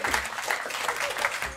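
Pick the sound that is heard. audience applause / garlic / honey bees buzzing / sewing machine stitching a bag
audience applause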